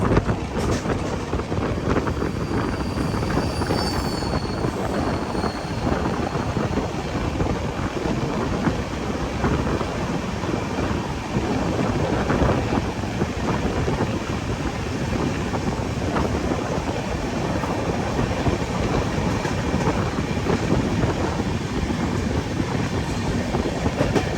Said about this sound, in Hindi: Haridwar AC express train start हो चुकी है